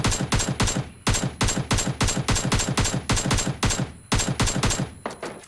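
Rapid gunfire in the video game PUBG Mobile Lite, a long run of loud evenly spaced shots in quick bursts with brief breaks, close and dominant, without talking.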